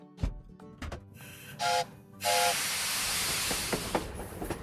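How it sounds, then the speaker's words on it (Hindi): A cartoon steam train pulls in within a children's train game: a few toy-like clunks and chimes, a short whistle toot, then a long loud hiss of steam that gradually fades. "ट्रेन आ गई है।"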